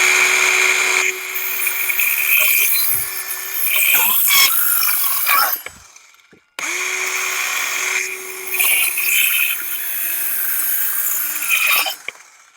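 A Workpro mini circular saw whines loudly as it cuts, in two long passes of several seconds each, with the motor spinning down briefly between them.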